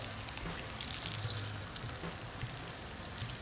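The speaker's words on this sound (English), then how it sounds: "Now, you let it fry until it's golden brown, which is about 2-3 minutes." Buttermilk fried chicken, double dipped in the wash, fries in hot oil with a soft, steady crackle and bubbling hiss, faint and even throughout.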